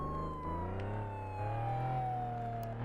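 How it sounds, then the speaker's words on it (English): A video game police car siren wails steadily throughout, a sustained wavering tone over a low engine rumble, with no talking. "Let's get the siren off."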